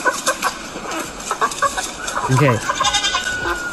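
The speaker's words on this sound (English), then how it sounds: "AI says that's just a tired chicken." A chicken clucks in a short, busy run of bursts, close and fairly loud, with a brief spoken word mixed in.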